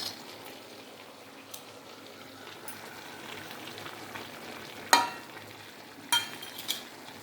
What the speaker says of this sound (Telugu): బాగా కలిపేసుకొని మరి కొంచెం సేపు ఉడకనివ్వాలండి మనము